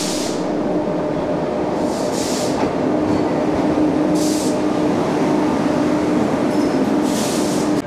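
A train arrives at a crowded station near Mathura with a loud, steady rumble of rolling wagons. Brief hissing bursts and a faint high squeal rise over the roar.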